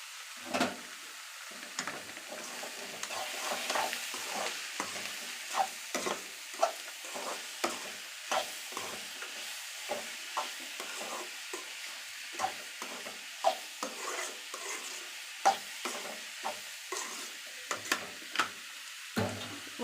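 Steady sizzling of onions frying in a pan, with repeated scraping stirs and light clicks, no voices.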